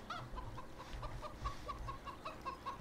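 A rooster clucks in Farming Simulator 17, a series of short, rhythmic clucks at moderate level over a low background hum.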